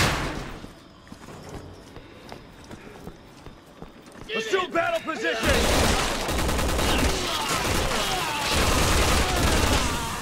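Gunfire in the video game Resident Evil 6. Scattered shots come first, then bursts of heavy rapid fire and clatter turn loud and continuous, with someone talking over the action.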